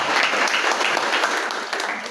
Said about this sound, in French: je vous demande d'acclamer très très fort